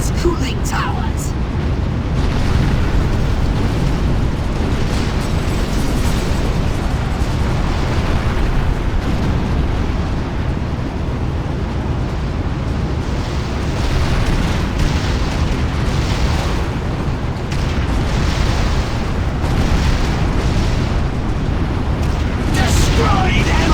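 Cooling towers exploding in Destroy All Humans! Path of the Furon, a continuous heavy rumble of blasts and eruptions layered into a loud, dense barrage with a few sharper bursts, while voices speak over it.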